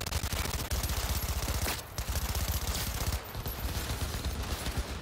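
Rapid shotgun fire in Cyberpunk 2077, a dense run of close, loud blasts repeating almost continuously with a couple of brief pauses.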